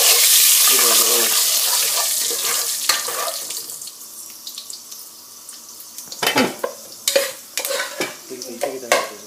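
Oil hits a hot pan while chicken curry cooks: a loud hiss at first that slowly fades, followed later by scattered crackles and clatters of stirring.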